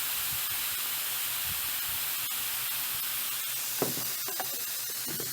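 Onions sizzling in a pan while cooking cheeseburger egg roll filling, a steady bright hiss with a few small pops and scrapes toward the end.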